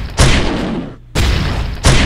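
Heavy booming shots from a weapon in a homemade retro boomer-shooter FPS game, loud and close, with two sustained blasts separated by a brief gap and a third beginning at the end.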